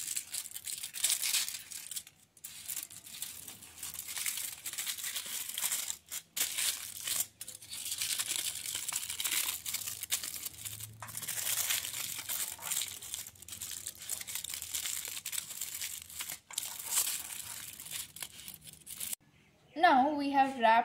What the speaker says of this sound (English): So now we'll wrap the phone with foil paper.